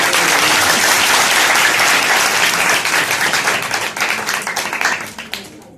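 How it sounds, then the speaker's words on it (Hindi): A church congregation at a Sunday service claps loudly together, a dense sustained burst of applause that thins into scattered claps and fades out near the end. "जोरदार ताली बजाएं।"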